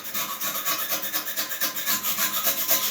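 A small knife scraping lime scale off a toilet inlet valve, a close, rough rasping stroke repeated rapidly and continuously with no voices.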